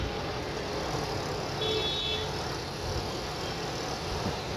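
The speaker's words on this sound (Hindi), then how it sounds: "ट्रैफिक आमद रफत जारी है।" Road traffic flows along Model Town Link Road in Lahore, with a steady wash of passing cars and engine rumble heard from the roadside. The noise stays constant and moderately loud, with no distinct single vehicle standing out.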